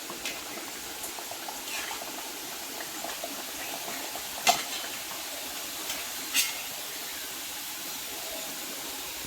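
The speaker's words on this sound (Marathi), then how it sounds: "असं तेल चांगल्याने तळून द्यायचं" Corn cutlets deep-frying in hot oil over medium flame: a steady, bubbling hiss with a few soft pops, fairly close and continuous, with no voices.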